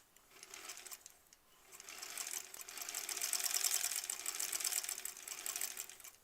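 A sewing machine stitches quilt block pieces in a fast, even mechanical whir. It is faint and close, with a short pause before the stitching speeds up and runs steadily.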